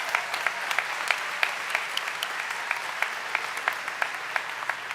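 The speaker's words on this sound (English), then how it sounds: "give yourself a big round of" Graduates at Mary Baldwin University's 2022 graduate commencement applaud themselves, a dense, steady clapping that holds even and sustained throughout with no voices over it.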